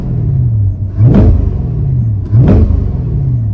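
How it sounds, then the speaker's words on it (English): A C8 Corvette with the stock sport exhaust and hardtop convertible revs twice, each sharp rise in engine pitch surging over a steady idle rumble before settling back, close and loud, with no talk. "you hear more noise from the muffler with the hardtop convertible because the engine noise isn't as loud."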